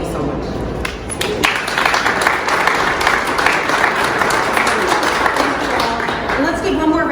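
Audience applause at a Bronx Assembly delegation event, a dense steady wash of many hands clapping that holds for several seconds, with voices mixed in beneath it.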